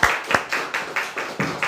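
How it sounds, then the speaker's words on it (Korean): A church congregation at a Thanksgiving Sunday service claps to welcome the pastor, a steady rhythmic patter of hand claps at moderate volume, without speech. "우리 정지현 목사님 박수로 모시도록 하겠습니다."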